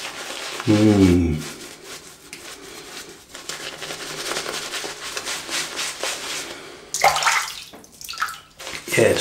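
A shaving brush with long bristles is dipped into water and worked around, giving splashy sloshing and rubbing sounds up close, with brief bursts of talk around it.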